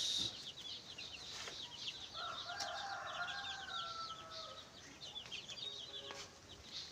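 Chickens and chicks, Rhode Island stock among them, fill a small farm with busy overlapping chirps and clucks. A few longer calls rise above the rest, all fairly faint and a little distant, with no speech.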